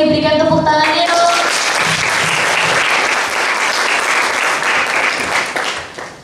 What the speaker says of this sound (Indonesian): Boleh diberikan tepuk tangannya dong.